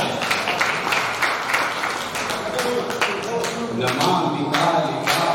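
Audience clapping at a Hindi kavi sammelan poetry recital, irregular sharp claps scattered over a few seconds while a voice carries on beneath them.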